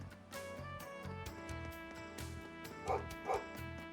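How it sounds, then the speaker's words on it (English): A dog barks twice in Trails of Cold Steel III, short sharp yaps near the end over looping game music and ambience. "That dog's always making a racket."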